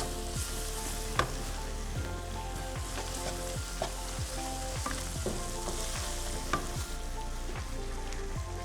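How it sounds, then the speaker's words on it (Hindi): Crushed red chilli and turmeric sautéing in a pan over high heat make a continuous soft sizzle, broken by the occasional scrape and clink of stirring. "तेज़ आंच पे इसको सौते करेंगे।"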